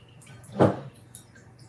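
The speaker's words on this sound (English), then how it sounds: "while that continues to drip a little bit" Basil tincture dripping through a coffee filter, a single soft liquid drip standing out clearly against a quiet room.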